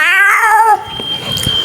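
A man imitates a cat's yowling meow with his voice, a loud wavering caterwaul that ends abruptly, followed by softer rustling and clicks.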